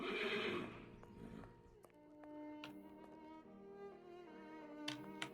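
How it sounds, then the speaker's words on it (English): Horses neigh loudly at the start, then hooves clip-clop steadily alongside a harness-jingle and carriage ambience in a Victorian London scene from a Sherlock Holmes video game, with a background music track. "These nude horses really bother me as well."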